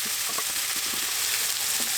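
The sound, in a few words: onions frying in a pan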